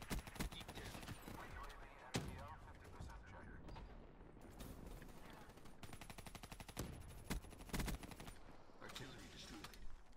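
Rapid gunfire from the video game Black Ops 3, with dense automatic bursts and sharp single shots crackling loudly and almost without pause under a player's talking.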